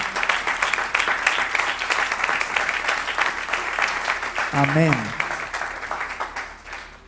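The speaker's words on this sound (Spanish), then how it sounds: "Denle otro aplauso al Señor" A church congregation gives steady, sustained applause to the Lord during a Spanish-language service. A brief spoken word cuts through the clapping near the end.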